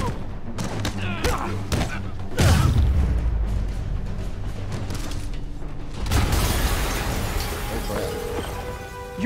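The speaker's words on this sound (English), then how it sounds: "an explosion just..." A large explosion in the Spider-Man PS4 video game booms at close range and is followed by rumbling and crackling debris, with a second heavy blast surge later, all under a continuous dense layer of game sound.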